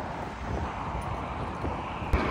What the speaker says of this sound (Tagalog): Ang sarap ng hangin niya, malamig, hindi mainit.